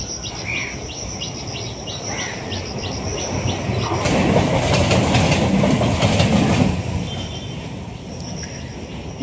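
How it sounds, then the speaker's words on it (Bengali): A local commuter train rolling past after a night of heavy rain, loud rumble and rattling wheels building in the middle, with steady insect chirping over a wet outdoor background and no talking. "এই হচ্ছে আমাদের ট্রেন।"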